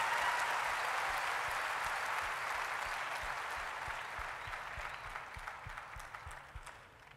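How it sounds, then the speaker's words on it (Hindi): At a Forever Living success day event in Lucknow, an audience gives a sustained round of applause that starts full and slowly thins and fades, with a steady low rhythmic thump pulsing beneath the clapping. "जोरदार तालियां होनी चाहिए।"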